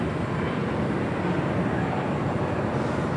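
Philippine Airlines Boeing 777-300ER jet taking off at Los Angeles International Airport, a steady, loud broadband engine roar holding constant throughout with no voices.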